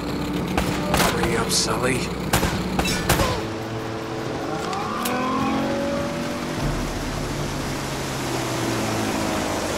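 Gunfire in Uncharted: Drake's Fortune, a burst of sharp repeated shots in the first few seconds, then a quieter rumbling background with a vehicle-like drone; a voice speaks briefly over the shooting.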